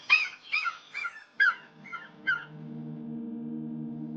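An African wild dog pack gives six or so short, high yipping, whimpering calls in quick succession, fairly close, before the calls fade into soft music.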